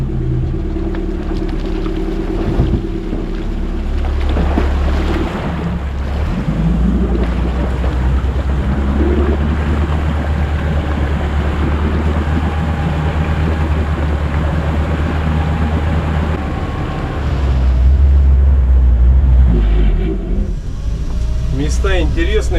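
All-terrain tracked vehicle fording a deep river on an old forest road, its engine a steady low rumble mixed with water churning and wind buffeting the microphone, loud and close throughout.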